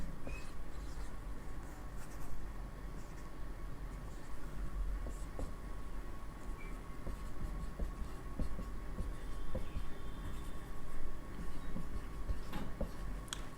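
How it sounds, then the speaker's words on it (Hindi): Chalk or pen writing out a chemical reaction on a board during a chemistry lesson: soft, steady scratching and tapping strokes continue throughout, close and fairly faint, over a low room hum. "यहाँ पे सबसे पहले अपने एक रिएक्शन यहाँ पे लिखते हैं"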